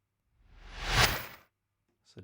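A single reversed sound effect in an electronic track swells from silence to a loud peak, then cuts off abruptly, followed by a brief faint click.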